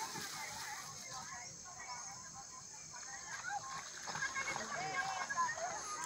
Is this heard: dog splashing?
yes